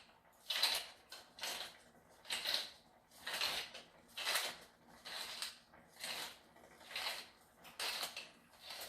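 Pepper grinding in a pepper mill, heard as about ten even bursts of crunchy, scraping twists in a steady rhythm, close and fairly quiet.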